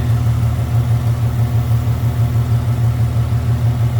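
A 1950 Lincoln sport sedan's big V8, with a 6-volt system, idles smoothly and loudly up close, holding a steady, even low rumble throughout with no talking.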